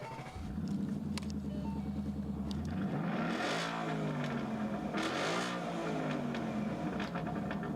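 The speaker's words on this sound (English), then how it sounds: "this has a Cook's aftermarket muffler on both sides there, and I'm going to show you what this sounds like." A 2012 Ford Mustang Boss 302 with Cook's aftermarket mufflers on both sides, its engine idling with a deep burble and then revving twice in strong rising-and-falling surges, loud and close, with no talking.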